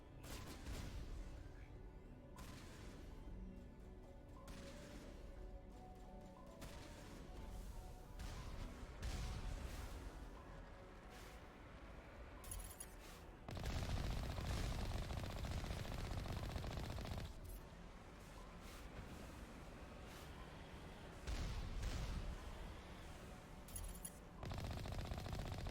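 Automatic turrets in the Mass Effect video game fire in bursts of rapid gunfire, with heavy stretches of shots mixed with quieter gaps and other combat noise.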